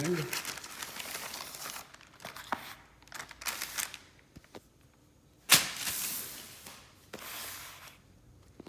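A plastic bag holding a katana stand is ripped open by hand, giving bursts of crinkling and tearing. A sharp rip stands out partway through, with softer rustles and handling before and after.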